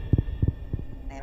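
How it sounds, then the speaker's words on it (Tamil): A heartbeat thumps from a cradle in the horror video game Granny. Three close double-beats throb in a steady rhythm, loud and near, before a brief higher tone enters at the end. "அது தொட்டிலே ஒரு ஹார்ட் பீட் சவுண்ட் கேட்குது."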